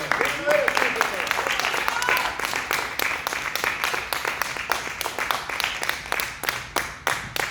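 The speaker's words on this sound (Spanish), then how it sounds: "Vamos a darle un aplauso más al..." A church congregation claps in a rhythmic, steady beat, near and moderately loud, with voices calling out over the clapping.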